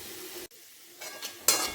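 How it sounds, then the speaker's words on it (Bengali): A metal spatula (khunti) presses and scrapes potatoes frying in a pan for a cauliflower singara filling, with a steady sizzle, a brief pause, then louder stirring scrapes. "খুন্তি দিয়ে একটুখানি হালকা করে চেপে দেখে নেব"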